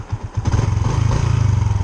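A Yamaha Sniper 150 motorcycle engine cranks with a few uneven chugs, then catches and settles into a steady, loud, close idle with a rapid, pulsing rhythm.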